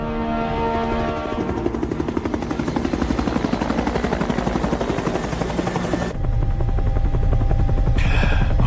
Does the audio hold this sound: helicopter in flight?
yes